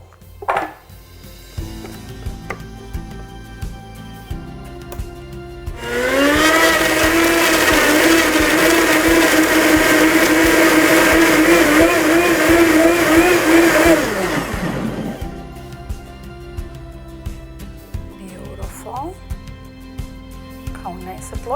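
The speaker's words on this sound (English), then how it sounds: "We will puree all these nice strawberries." A kitchen blender purees fresh strawberries in one loud, steady burst of whirring that lasts about nine seconds and rises slightly in pitch as the fruit breaks down. Quiet handling clatter comes before and after the burst.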